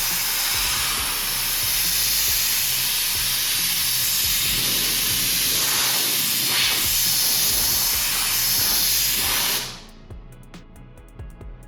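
Torque Detail ceramic spray hisses steadily onto paint-corrected car paint, a close, continuous aerosol spray lasting several seconds before cutting off sharply.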